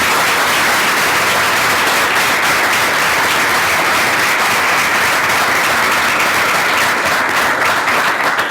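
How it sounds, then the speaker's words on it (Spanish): Sustained, dense applause from a seminar audience, loud and steady from start to finish with no pause, a thick wash of clapping that fills the room. "Vamos a darle un aplauso a Rodrigo."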